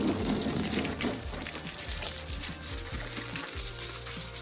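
A hose sprays water over farm equipment before wheat spreading, a loud steady hiss and gush close by with no talking.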